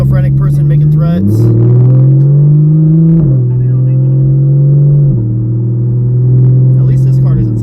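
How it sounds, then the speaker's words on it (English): A car's engine hums steadily from inside the cabin while driving, its pitch stepping up and down with gear changes, heard under ongoing conversation between occupants. "At least this car doesn't sound like a loud fart like some of the Hondas."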